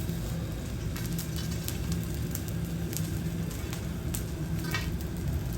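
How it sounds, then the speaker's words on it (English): Crackling of cooling lava outdoors in Iceland, a steady dense bed of fine pops and ticks with occasional sharper snaps, continuous and fairly close throughout. "And you can also hear the sound of the lava cooling"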